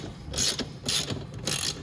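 A ratchet socket wrench loosens the front sprocket nut on a Venom x22 125cc motorcycle, with a 19 mm socket and a 17 mm wrench, producing three close, loud bursts of rapid ratcheting clicks.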